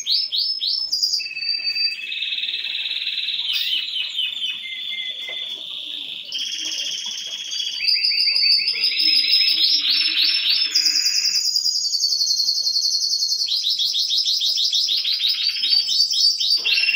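A bird in a home aviary sings a long, loud run of bright, rapidly changing whistled and trilled phrases, close by and continuous, with no talk.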